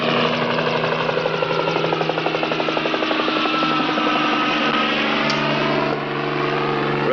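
A helicopter flies nearby over mountain country, its rotor beating in a loud, steady chop for the whole stretch, with the turbine droning continuously underneath and no talk.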